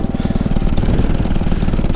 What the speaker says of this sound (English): Everything feels right when the engine's running.